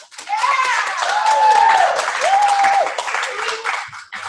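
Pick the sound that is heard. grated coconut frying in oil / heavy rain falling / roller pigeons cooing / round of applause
round of applause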